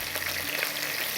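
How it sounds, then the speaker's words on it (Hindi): Oil left from frying okra, with cumin and mustard seeds, hisses in a steady loud sizzle as onion goes into the pan, a dense continuous crackle with no pauses. "इसमें डालेंगे प्याज।"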